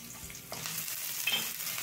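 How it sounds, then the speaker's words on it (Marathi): Chopped onion sautéing in a pan for masala aloo samosa stuffing, a steady close sizzle with soft scraping stirs throughout and no talk. "पण कांदा परतून घेऊयात."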